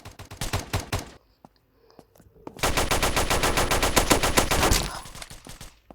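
Rapid automatic gunfire from a weapon in a video game, a burst of sharp shots, a pause with scattered single cracks, then a longer sustained loud volley that stops abruptly.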